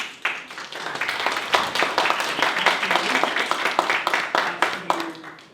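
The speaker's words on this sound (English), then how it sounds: "give them a big round of applause." A conference audience bursts into a big round of applause after a sales presentation, dense overlapping hand claps at steady loudness throughout, with no clear speech on top.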